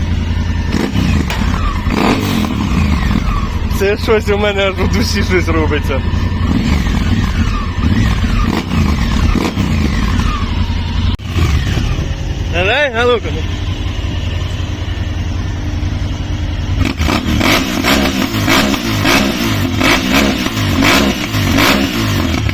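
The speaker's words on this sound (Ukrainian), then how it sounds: "Так мотоцикли не дуже люблю, але оцей звук" A motorcycle engine revs loudly and continuously up close, rising and falling in throttle bursts with rattling clatter, while someone speaks briefly over it.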